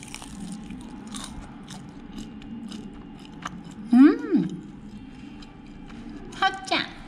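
Crispy moon shrimp cake is bitten with a sharp crackling crunch, followed by softer chewing and a second crisp bite, heard up close against quiet room sound.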